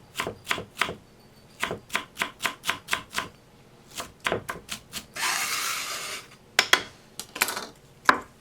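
A knife minces a jalapeno on a cutting board in a series of crisp, close chops in quick rhythmic bursts, broken by a brief scraping sweep of the blade partway through.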